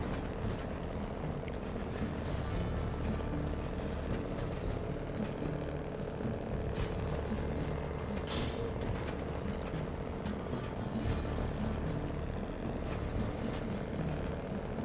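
A heavy truck drives in the off-road game SnowRunner, its engine producing a steady, dense low drone throughout, with a brief brighter burst in the middle and no speech.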